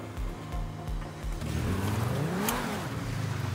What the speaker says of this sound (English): So let's spawn a car.